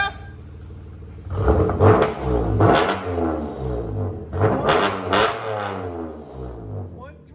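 A Chevy Camaro 3.6L V6 with a Dynomax Race Bullet exhaust idles with a deep rumble, then revs loudly in several rising and falling bursts nearby while a person talks.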